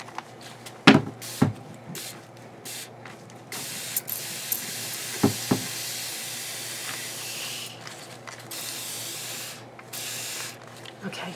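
A spray bottle mists water onto pink paint in a dye pan, with a few sharp trigger squirts followed by long soft hissing spray, close and fairly quiet, with a person speaking briefly.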